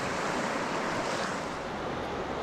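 Creek water in the San Juan mountains rushes steadily and loudly, a continuous close wash of flowing water with no voices.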